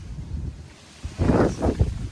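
Low wind rumble on the microphone swells into stronger gusts halfway through, with soft rustling noise.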